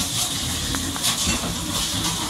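Running water splashing and hissing steadily across a concrete goat pen floor as it is rinsed clean, a continuous close wash of noise without pause or voices.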